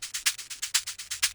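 Dry, unprocessed recorded shaker: a tight run of about ten crisp, hissy shakes in steady rhythm, with alternate strokes accented, close and alone.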